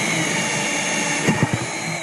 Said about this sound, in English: I'm going to go ahead and drill that pilot hole now.